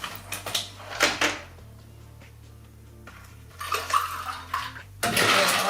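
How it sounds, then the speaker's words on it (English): Ice is added to fill a cocktail glass for a Spritz, with clinking and rattling cubes in short bursts, a quieter gap, then a louder clatter at the end. "And to fill it with ice."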